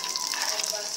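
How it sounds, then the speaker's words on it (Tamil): Dried red chillies and curry leaves sizzling in hot oil during tempering for sambar, a steady close crackling hiss with no break. "காஞ்ச மிளகாய், கருவேப்பிலை போட்டு நல்லா வதக்கிக்கலாம்."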